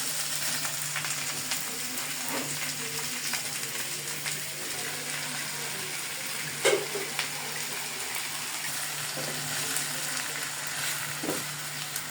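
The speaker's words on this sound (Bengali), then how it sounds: "হালকা ভাজা হলে এর মধ্যে তরমুজে কেটে রাখা খোসাগুলো দিয়ে দিলাম।" Onions, green chillies and watermelon rind frying in a pan, a steady close sizzle with occasional stirring clicks and a sharper scrape partway through, no voices present.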